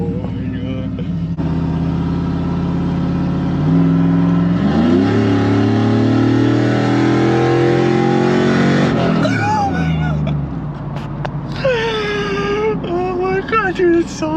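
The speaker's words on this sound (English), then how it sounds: "Sometimes I'm almost embarrassed to put the exhaust cutout on because it's so loud" A 2013 Chevrolet Silverado engine bellows through an open exhaust cutout, loud and close, droning and rising in pitch as it revs, with a voice talking over the roar.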